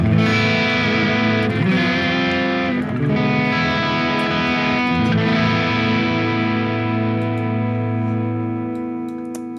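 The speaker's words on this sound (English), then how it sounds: "The unit can do crunch tones, which is no surprise." Crunchy overdriven electric guitar through a Sonicake Matribox 2 Pro multi-effects unit, played as loud sustained chords with a few restrikes that ring out and slowly fade toward the end, with no voices.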